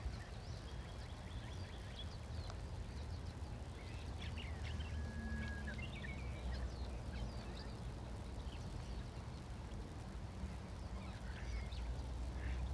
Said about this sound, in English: the beautiful sounds of the water, the wind, the birds in this beautiful place